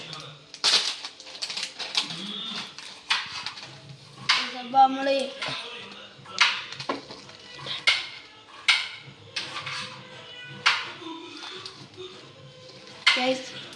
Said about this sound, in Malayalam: നമ്മളെ സേമിയ പൊട്ടിച്ചിടാം.